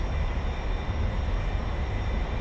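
An A-4E jet climbs just after takeoff in a flight simulator game, with a steady loud engine roar and rumble that holds without break.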